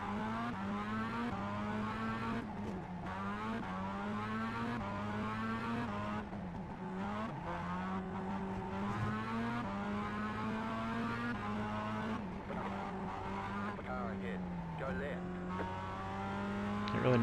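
Mazda MX-5 Cup race car in the iRacing sim at Oulton Park, engine note climbing and dropping through gear changes with tire squeal, steady and close throughout.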